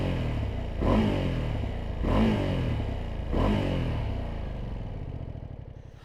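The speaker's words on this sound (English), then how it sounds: "let's give it a quick rev so you can hear what it sounds like" Ducati Multistrada V2S motorcycle engine revved three times while standing still, each sharp blip rising and falling back to a steady idle, close and loud with no voices.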